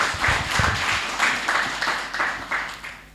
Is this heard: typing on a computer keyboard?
no